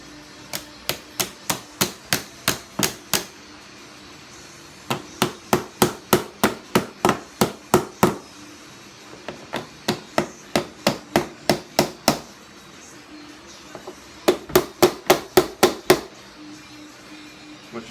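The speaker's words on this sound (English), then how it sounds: "you can begin to use a screwdriver and a hammer and tap it around." A hammer tapping a screwdriver around a fuel pump ring on a 2003 Honda Goldwing GL1800, sharp metallic strikes in quick regular bursts of about eight to twelve blows separated by short pauses, close and crisp.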